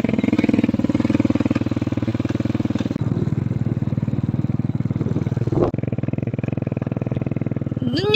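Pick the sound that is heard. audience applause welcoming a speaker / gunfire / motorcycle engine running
motorcycle engine running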